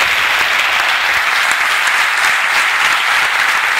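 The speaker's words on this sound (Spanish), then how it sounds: "por favor, un fuerte aplauso para ellos" Loud, dense audience applause at a charity sports event, continuous clapping from a large crowd close by, with no voices standing out.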